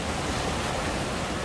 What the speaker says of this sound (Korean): 파도가 높아서